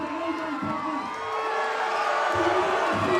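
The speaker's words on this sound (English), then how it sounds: "This crowd is pumped." A wrestling crowd at a live event in Thunder Bay roars and cheers steadily, loud and dense throughout, with whoops rising out of the noise.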